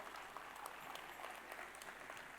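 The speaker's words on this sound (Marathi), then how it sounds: "वीरांसाठी टाळ्या" An audience at an annual school gathering gives young performers of a Ramayan show sustained, even applause, a dense crowd clapping that stays faint and distant throughout.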